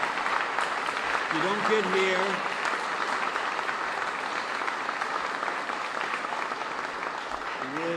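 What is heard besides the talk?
audience applause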